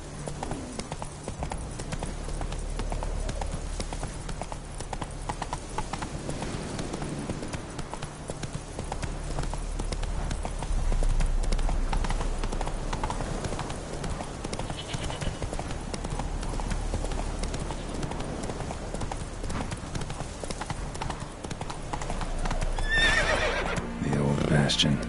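Horse hooves clip-clop at a galloping pace in The Witcher video game, with a whinny breaking through and a loud, rhythmic drumming over low ambient game sound.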